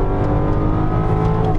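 A 2006 Mercedes-Benz E 55 AMG estate's engine pulls hard under acceleration, a loud, steady, deep drone heard up close with no talk.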